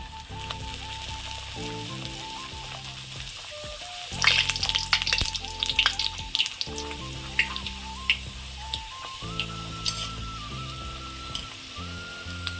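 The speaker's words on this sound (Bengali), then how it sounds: "তো তেলটা আমার গরম হয়ে গেছে তো এর মধ্যে কচুরিগুলো ভেজে নেব একটা একটা করে দিয়ে" Pea-stuffed kachori sizzle and crackle in hot oil, a steady frying hiss with bursts of sharper crackling as each one goes in, accompanied by a sustained musical tone.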